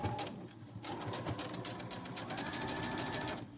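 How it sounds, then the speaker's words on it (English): Close and steady, a sewing machine runs continuously with a fast mechanical whir as it stitches elastic onto joggers, with a brief thump at the start and no talking. "So I'm gonna go ahead and start stitching here"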